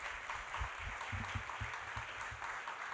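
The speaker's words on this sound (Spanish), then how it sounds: "Quiero pedir un fuerte aplauso para Deidret Barrios, que es nuestra productora." A live audience applauds a producer at a music performance with steady, even clapping that sounds somewhat distant and soft throughout.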